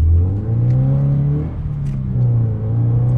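A Toyota GT86 sports car with its Subaru engine revs loudly and close by, the engine note rising and falling in a steady, strong rumble.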